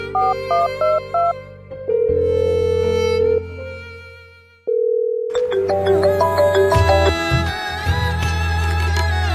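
A phone rings with a melodic electronic ringtone, its tonal beeps and notes playing clearly and loudly with a brief gap partway through, and no talking.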